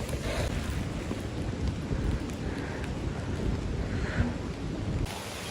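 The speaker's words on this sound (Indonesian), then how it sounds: "Ini hujannya lumayan deras." Heavy rain falls steadily during a rainy-season solo hike on Mount Andong, a dense, broadband hiss of downpour mixed with wind buffeting the microphone, continuous and close throughout.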